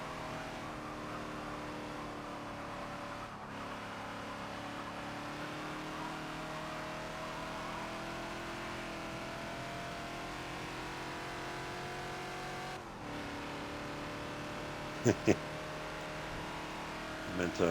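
A Ford Falcon XB engine in Forza racing at Watkins Glen holds a steady, sustained drone near the red line, with brief interruptions where shifts occur, while someone talks over it.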